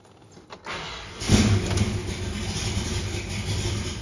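A muscle car engine rumbles at idle after a faint start, a low steady throb holding close and fairly loud for several seconds with no voices.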